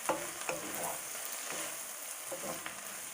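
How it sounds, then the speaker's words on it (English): A pot of cabbage soup with baby carrots simmers and sizzles softly while being stirred, with a few light utensil knocks against the pot over a quiet, steady hiss. "Give it a stir."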